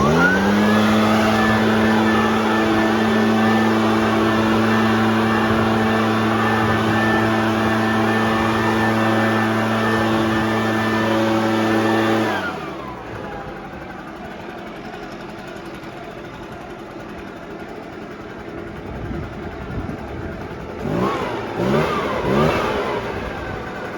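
The small two-stroke engine of a RedMax, Shindaiwa or Husqvarna backpack blower, fitted with a replacement carburetor, runs at high throttle with a loud steady whine, then drops sharply to a lower idle with a few small blips near the end.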